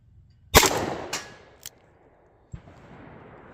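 A S&W 637 Airweight .38 Special snub-nose revolver fires outdoors: one sharp loud crack, then a second shot with a fading echo, a faint metallic ding from a hit target, and another distant report, with no talk.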